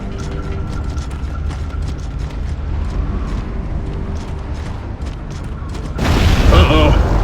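In Gears of War Judgment, a building weakened by an explosion shakes with a sustained low rumble, then a heavier, louder crumbling roar swells near the end.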